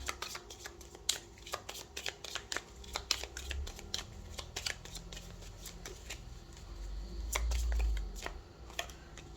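Tarot cards riffled and shuffled in quick crisp flutters, close and fairly quiet, with soft slaps and slides as cards are handled and drawn, and no talking.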